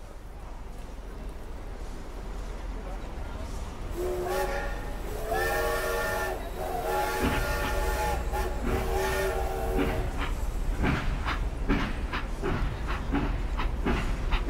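A Great Eastern line train runs steadily throughout, with a continuous rumble joined midway by sustained tonal squeals or whistle-like notes and later by rhythmic clicking from the wheels.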